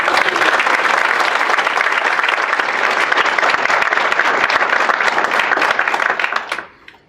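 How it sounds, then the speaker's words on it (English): An audience at the 55th annual meeting of the Friends of the Public Garden breaks into strong, sustained applause, the thick crowd clapping steady for about six seconds before tapering off quickly. "I'd really like to ask you to give him a round of applause."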